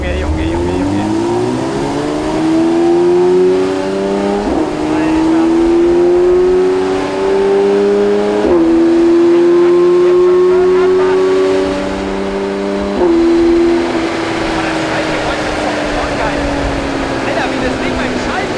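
Porsche 992 GT3 RS engine roaring on a dyno, loud rising revs climbing through several gear shifts marked by sharp changes in pitch, then dropping away to a rumble near the end.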